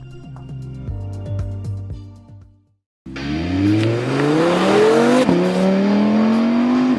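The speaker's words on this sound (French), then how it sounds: "Déjà un super son à l'intérieur, le V10, quel bonheur." An Audi R8 V10 engine heard from the cabin on a racing circuit, idling, briefly cutting out, then roaring back and revving hard through rising gears, loud and close.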